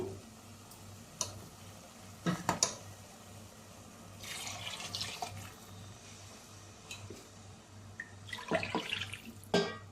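Water is poured into a pot of mutton curry cooked with taro root, giving faint, intermittent splashes and trickles in a quiet kitchen. No one speaks.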